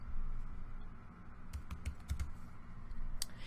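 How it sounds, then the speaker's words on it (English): Computer keyboard keys tapped in a short burst of quick clicks during legal case-management software training, close and moderately loud over a steady background hum. "To search for a template, just go ahead and type in the name."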